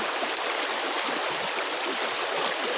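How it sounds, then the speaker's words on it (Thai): Running water rinsing freshwater algae in a basket, a steady, dense splashing rush with no pauses. "เราก็จะมาล้างน้ำออกนะครับ"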